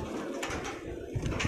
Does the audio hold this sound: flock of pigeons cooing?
yes